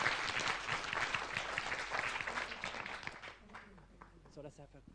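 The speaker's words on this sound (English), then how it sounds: "let's thank them with a big applause" A conference audience applauds presenters after a session on WHOIS privacy and public interest, dense clapping filling the room before tapering off, with a few voices speaking as it fades.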